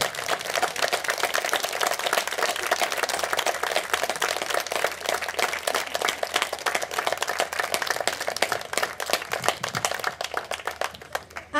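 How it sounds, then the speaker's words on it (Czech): An outdoor garden party audience at a nursery school in Hostinné gives a big round of applause, steady rapid clapping from many hands that carries on at an even level before tapering slightly at the end. "Takže vás prosím o velký potlesk"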